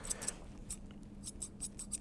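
Sharp grooming scissors cut a dog's fur in a series of quick, crisp snips, close and fairly quiet, coming in irregular clusters with no talking.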